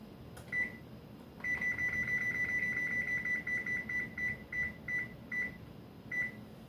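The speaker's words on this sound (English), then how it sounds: "Set the timer for 20 more minutes." A kitchen oven timer being set while dinner cooks gives a run of short, high electronic beeps, first sparse, then quick and steady, then spacing out again, clear against a quiet room hum.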